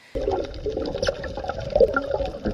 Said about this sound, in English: There's the sound effect of turtles mating.